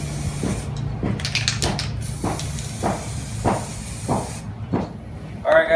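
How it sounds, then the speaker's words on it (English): Adhesion promoter is sprayed onto the plastic trim of a Toyota RAV4 before wrapping, in a series of short, evenly spaced hissing bursts from a nearby spray can. "first we're gonna add some adhesion promoter."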